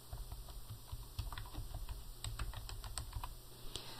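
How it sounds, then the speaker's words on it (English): Steady typing on a computer keyboard while entering a vendor name, many quick key clicks in irregular bursts over a quiet background hum. "so I have to type it again"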